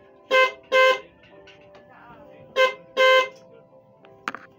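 A customized 12V horn sounded through a brake lever switch gives four loud, short honks in two pairs, followed by a faint click near the end.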